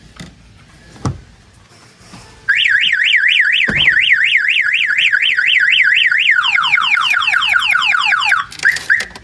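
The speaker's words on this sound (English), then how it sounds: "If somebody opens the door, it's gonna set off the alarm." Freightliner Cascadia truck alarm set off by a door opening: a few handling clicks, then a loud close siren cycling in rapid rising-falling warbles, shifting to a faster sweeping pattern before cutting off into brief chirps.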